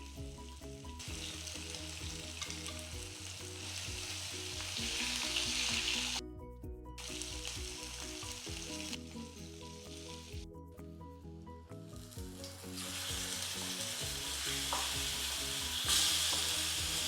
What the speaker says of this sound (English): Now open the lid and fry the semi-cooked chicken until golden.